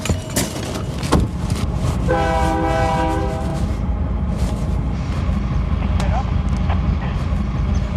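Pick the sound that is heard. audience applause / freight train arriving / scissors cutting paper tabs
freight train arriving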